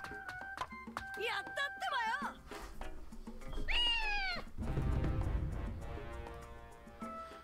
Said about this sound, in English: How hard is it to catch a goddamn cat?